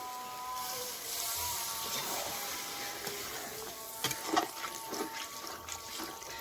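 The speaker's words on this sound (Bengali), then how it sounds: "এবারে পরিমাণ মতন আমি জল দিয়ে দেবো" Water is poured into a pan of stalks and potatoes cooked down in spices, a soft steady trickle with a brief louder splash partway through, fairly quiet overall.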